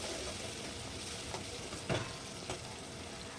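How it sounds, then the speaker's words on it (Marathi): Tomatoes cooking with onions and green chillies in a pan, a steady close sizzle and frying hiss with a few soft stirring clicks and scrapes, no talk. "आता आपण याच्यामध्ये टमाटर टाकून घेऊया आणि या टमाटरांना सुद्धा छान असं शिजवून घ्यायचं आहे"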